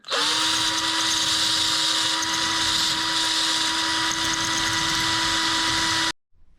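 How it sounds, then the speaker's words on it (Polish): A cordless screwdriver spins steel wires against a flat file to sharpen them for a DIY blueberry picker, giving a loud, steady high-pitched whine that runs unbroken for about six seconds and then cuts off abruptly. "wsadzamy do wkrętarki te nasze druty. Potrzebujemy płaski pilnik i po prostu kręcimy i szlifujemy"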